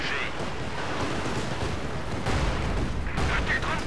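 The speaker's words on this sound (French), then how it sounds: "Tire de Panzerwerfer!" Panzerwerfer rocket artillery salvo in Company of Heroes 2, a dense, sustained rumble of launches and blasts with bursts around the middle and end, loud and continuous.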